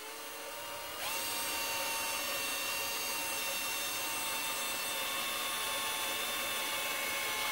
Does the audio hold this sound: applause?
no